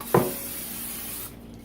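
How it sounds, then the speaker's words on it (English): A steady hiss of cooking spray onto the bottom tray of a NuWave countertop oven, lasting about a second, starting just after a short knock, then cutting off to quiet. "I'm going to spray it with a little"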